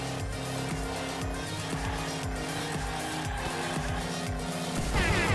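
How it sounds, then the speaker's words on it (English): A toy-style race car in the Hot Wheels Unleashed video game drifts around a corner, its engine revving in rising and falling sweeps with tire squeal near the end, loud and continuous with no talking. "Drifting around the corner."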